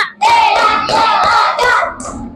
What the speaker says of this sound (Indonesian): Tepuk-tepukan dulu biar semangat.